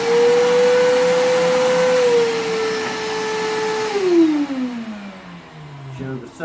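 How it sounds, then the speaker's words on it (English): Stanley 6 gallon wet/dry vacuum, model SL18116P, running with a loud steady whine that holds for several seconds, then winds down in pitch as the motor slows. "Let's turn it on and see if it fires up. Get the good suction."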